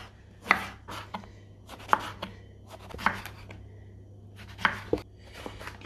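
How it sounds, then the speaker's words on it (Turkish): A knife slices eggplants into thin, long strips on a cutting board for Kilis tava, giving sharp, distinct chops at an irregular pace, about six clear strikes, close and alone with no talk. "Patlıcanları ne kadar ince ve uzun keserseniz o kadar iyi"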